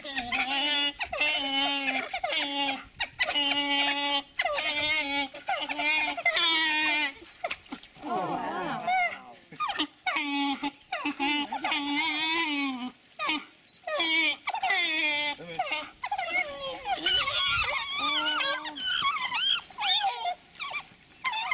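Painted dogs, also called African wild dogs, whimper and yip in a long run of high, wavering, moaning calls. Some are drawn out and some are short, close and fairly loud, with brief gaps between bursts.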